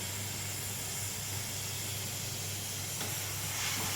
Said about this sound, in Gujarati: હવે આ કેરેમલાઇઝ સુગરમાં આપણે ગાજરનો જ્યુસ મિક્સ કરીશું